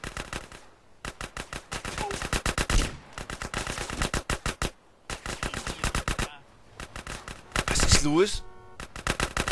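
GTA San Andreas gunfire in long rapid automatic bursts, loud and close, broken by short pauses. Someone speaks briefly between the volleys.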